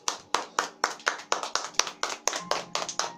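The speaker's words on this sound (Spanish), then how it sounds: "¿Por qué no le damos una ofrenda de palmas a Dios," A church congregation claps hands in a steady, even rhythm, roughly three to four claps per second, loud and close. There is little else beneath the claps.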